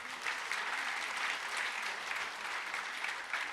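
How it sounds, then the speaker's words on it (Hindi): An audience at a spiritual talk breaks into a dense, steady round of applause, many hands clapping continuously at a fairly loud level throughout. "एक बार जोरदार से तालियां।"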